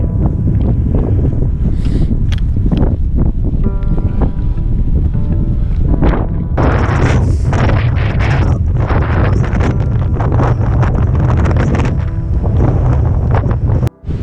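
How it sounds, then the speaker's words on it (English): Heavy wind buffets the microphone on a Welsh hill trail between Bucknell and Knighton in loud, continuous low rumbling gusts, with a few faint higher rustles, and no speech. "you might be able to tell it's windy"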